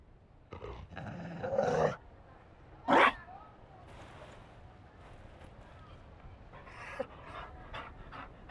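A Mabari war dog in the Dragon Age Inquisition video game pants and growls in short, close bursts, with quieter sniffs and breaths between them over a low background.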